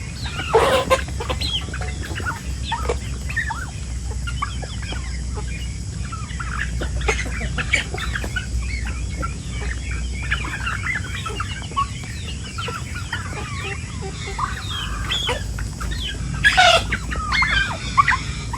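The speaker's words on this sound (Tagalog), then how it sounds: "Marami dito mga pabo." A flock of free-range farm turkeys mingles with chickens, a continuous chatter of clucks and gobbling calls over steady outdoor background noise, with a louder burst of calls near the end and no talking.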